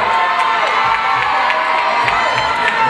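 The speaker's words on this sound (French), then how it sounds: "Applaudissements pour toutes les candidates." A loud beauty pageant audience cheering and shouting continuously for the contestants, with whoops rising above a dense wall of voices, no clear claps standing out.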